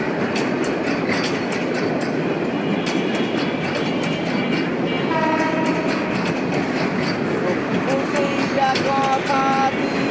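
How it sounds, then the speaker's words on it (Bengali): A container-laden freight train rolls past steadily and loud on rails in Bangladesh, with continuous wheel rumble and clatter and high squealing tones from the wheels toward the end. "এটা মাল বহন রেলগাড়ি"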